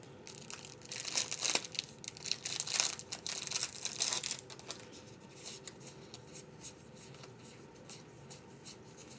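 Anachrony board game appendix cards being handled during an unboxing, with dense papery shuffling and crinkling, loudest in the first half and then settling into lighter, scattered rustles close by.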